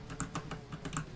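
Keyboard typing on a computer during a drawing stream, about six distinct clicky keystrokes at an uneven pace, close and moderately loud, with no voices.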